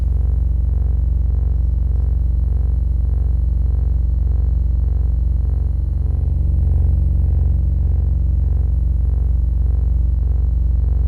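A steady, heavy low rumble drones continuously with a faint pulsing texture, like looping machinery, unchanging throughout.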